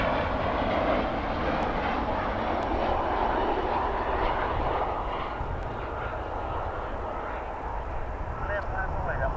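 An Avianca airliner in Star Alliance livery at DFW Airport roars steadily nearby, the engine noise easing slightly toward the end, with voices present over it.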